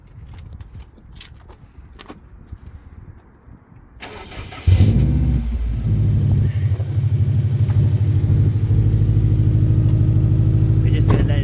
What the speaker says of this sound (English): Firstly, we start the engine, get the oil hot, so then it's easier to run out.